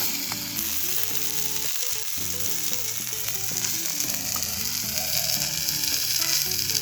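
Tandoori whole fish sizzles on a tawa over a medium-low gas flame. A loud, steady frying hiss continues throughout, close up, under a faint clicking background texture and with no speech.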